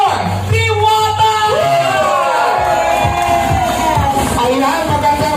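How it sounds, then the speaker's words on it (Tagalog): A large crowd cheers and whoops loudly, with shouting voices rising and falling in a sustained, lively roar. "Sabay-sabay naman natin palakpakan at hiyawan."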